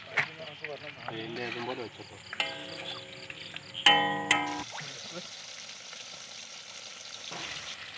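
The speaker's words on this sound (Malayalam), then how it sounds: "ഇപ്പം നമ്മളെ മീൻ പൊരിഞ്ഞ് റെഡിയായി വന്നിട്ടുണ്ട്" Tilapia frying in a pan with a steady soft sizzle under speech and clinks of utensils, before the sizzle settles into a faint continuous hiss.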